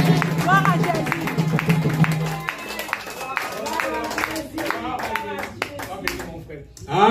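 A church congregation claps and applauds together during a deliverance testimony service, a dense steady patter of hands with crowd noise and voices mixed in, fading toward the end.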